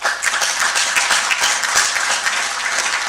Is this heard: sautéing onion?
no